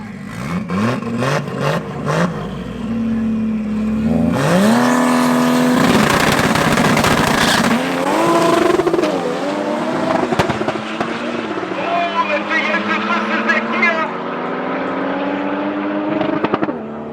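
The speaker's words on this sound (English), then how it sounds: "next up we got Jan and Stitch going up against the Audi S3" A Golf and an Audi S3 drag racing at Tarlton International Raceway during a club event: crackling pops at the line, then loud engines revving and climbing through gear changes, with an announcer's voice running over the noise.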